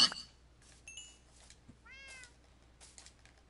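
A house cat meows several times, short harmonic calls spaced across a few seconds, fairly close in a quiet indoor room with a faint low hum beneath.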